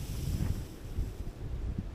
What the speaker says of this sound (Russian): Просто ураган начался.